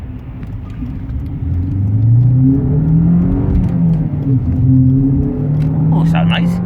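Alfa Romeo 159 2.2 JTS petrol engine on a road car revving up and easing off, a steady loud drone with rising and falling pitch, alongside traffic on a busy Sunday road and a person talking over it.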